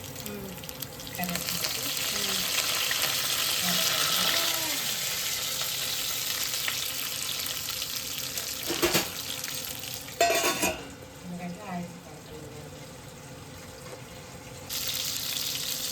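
Mustard seeds, cumin, urad dal and moong dal fry in oil for upma, a dense, steady sizzle with stirring scrapes. It quiets partway through, broken by a few loud clatters, then swells again.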